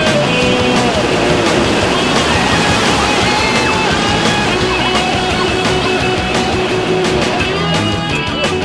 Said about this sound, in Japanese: すごい雨だね